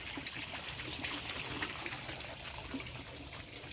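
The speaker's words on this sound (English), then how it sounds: "Here's Dana's pond." Water trickling in a backyard pond, a soft, steady splashing wash heard from a short distance, unbroken and without voices.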